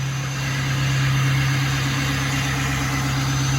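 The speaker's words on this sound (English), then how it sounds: "Got Kaylee's truck all started up." A truck engine idles steadily after being started, with a constant low rumble and hum that stays close and loud throughout, with no voices.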